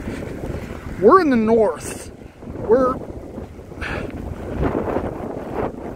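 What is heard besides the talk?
wind blowing during a snowstorm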